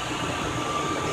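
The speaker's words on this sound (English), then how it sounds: "This train is departing." An Atlanta airport terminal train rumbles loudly as it departs, with a dense steady roar of rail noise and a faint high squeal over it.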